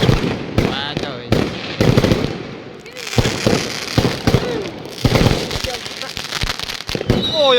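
Fireworks burst on New Year's Eve in China in a dense, continuous barrage of loud crackling bangs and rapid firecracker strings, with people talking and exclaiming underneath.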